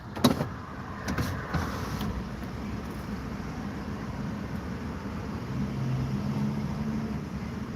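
A hot car's interior with a steady low engine and road rumble, a few brief mechanical whirs near the start as power windows move, with no voices.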